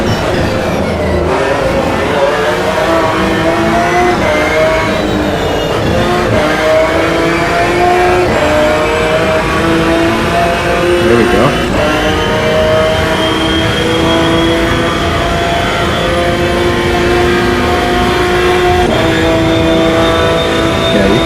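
Race car engines in Assetto Corsa EVO roar continuously and loud, pitch climbing steadily through a long pull with several gear shifts, other cars close by; a voice briefly speaks over it.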